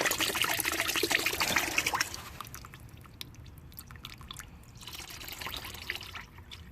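Gasoline leaks from an engine and drips and trickles steadily, loud at first and then fading to a quieter, irregular dribble.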